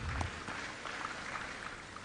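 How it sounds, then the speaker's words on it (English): Conference attendees applaud the directors with a steady, moderately loud wash of clapping that holds evenly throughout, a couple of sharper claps near the start. "A round of applause to our directors."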